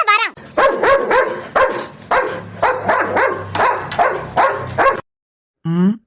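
A dog barks repeatedly in quick, loud, close bursts, with a high whine at the start and again after a short silence at the end.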